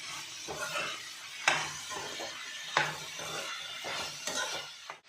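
Capsicum tomato gojju stirred in a pan, a steady low sizzle with spoon scrapes and a few sharp knocks against the pan, close and fairly quiet with no voices.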